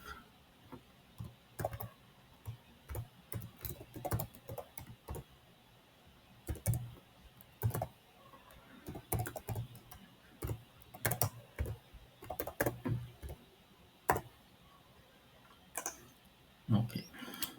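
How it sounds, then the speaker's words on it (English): Typing on a computer keyboard at a desk: quiet, irregular bursts of close key clicks with short pauses between runs and no voices. "we'll go and type here itself"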